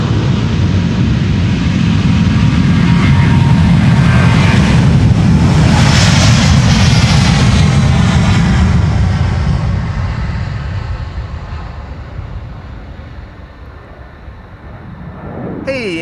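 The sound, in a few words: Delta Airlines jet taking off, flight to Minneapolis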